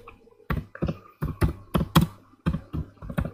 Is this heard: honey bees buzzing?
no